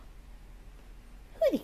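A dog lets out a single short, high whimper near the end, close and clear after a stretch of quiet room tone.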